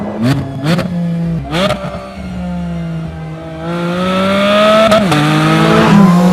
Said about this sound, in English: proper, real, mechanical, visceral race car noises